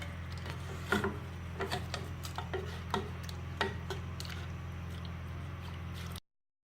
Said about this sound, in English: Then I'll stir in just so every part gets the seasoning.